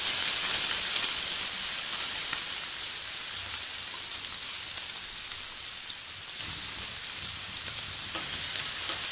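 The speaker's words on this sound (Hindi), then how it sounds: "प्याज को हमें गोल्डन ब्राउन कलर होने तक भूनना है, इसे हम मीडियम फ्लेम पे भूनेंगे" Finely chopped onions fry on a medium flame in a pan, a steady dense crackling sizzle like light rain that runs unbroken and fairly close throughout, with no voices.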